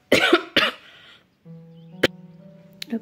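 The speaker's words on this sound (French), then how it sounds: "Pardon, j'ai toussé" Two sharp coughs close together at the start, loud and near, followed by a quieter low hum and a brief click.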